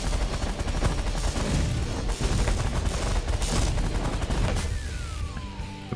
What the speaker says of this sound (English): Minigun, auto fire, go.